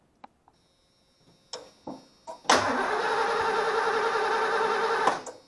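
A 1989 Ford E250 van engine cranking without starting: a few faint clicks and short starter bursts, then a sustained loud cranking whir of about two and a half seconds that cuts off abruptly.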